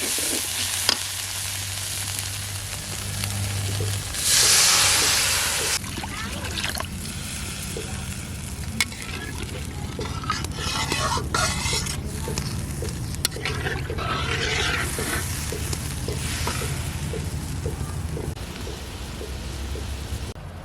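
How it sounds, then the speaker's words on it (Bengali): Water poured into a pan of hot fried spices for an eggplant and duck egg curry, with a loud hissing sizzle surging midway, then steady frying and stirring underneath, with a voice speaking over much of it. "মশলা কষানো হয়ে গেছে, এখন ঝোলের জন্য জল দিয়ে দেব।"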